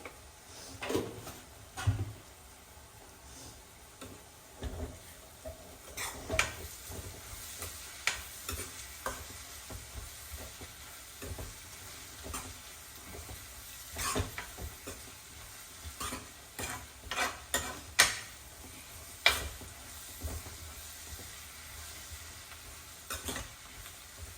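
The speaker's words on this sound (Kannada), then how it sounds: "ಈಗ ಆನಿಯನ್ನು ಫ್ರೈ ಆಗ್ತಿದೆ" Onions with a pinch of salt frying in a pan, a steady close sizzle broken by frequent scraping stir strokes and occasional soft clinks, continuing without any talk.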